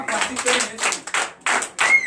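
A church congregation claps in bursts during a Sunday worship service, with several short rounds of hand claps separated by brief pauses and voices mixed in.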